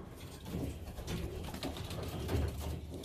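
Pigeons cooing softly inside a loft, low throaty coos repeating over a faint hum of background room noise, with no talk.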